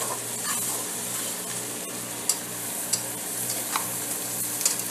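Onions caramelizing in a pan for a garlic Hawaiian hamburger bread roll appetizer give a loud, continuous sizzle, with a few sharp pops and clicks from stirring scattered through.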